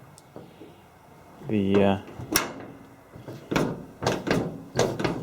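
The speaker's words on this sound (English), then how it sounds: "let's try and close the door on this side" A door on a 1972 K25 truck is pushed shut against its weather strip, giving a squeak and then several solid thunks as it is pressed, with someone talking intermittently around the sounds.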